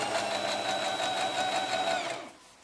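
A Brother XL2600 sewing machine stitches a zigzag at a steady fast rhythm, a continuous whirring hum with rapid repeating needle clicks, close and alone, winding down at the end.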